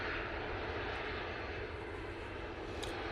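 An Airbus A350 in Soul Rebel livery pushes back at Manchester Airport, its engines giving a steady, broadband roar heard from a distance without pause.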